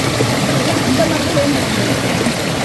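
Water pours down the Sambalaru waterfall above Kurangani in the Western Ghats, a loud, constant rushing roar close by that covers the whole clip.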